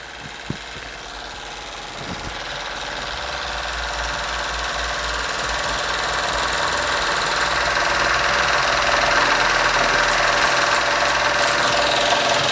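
An early 1900s German Bing small horizontal model steam engine runs on a gas flame, a steady mechanical hiss and rapid chuffing that slowly builds in loudness, heard close up with no talk.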